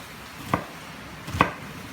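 A kitchen knife cuts a vegetable into long julienne strips, giving two distinct, close chopping knocks on a board about a second apart over a faint background hiss.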